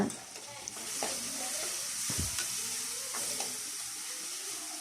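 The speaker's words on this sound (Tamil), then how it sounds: "கொஞ்சம் இஞ்சி பூண்டு பேஸ்ட்டு போட்டு இஞ்சி பூண்டோட பச்சை வாசனை போகிற அளவுக்கு நல்லா வதக்குங்க" Ginger-garlic paste sautéing in a pan for a quail fry, a soft steady sizzle with a few light utensil knocks, fairly quiet.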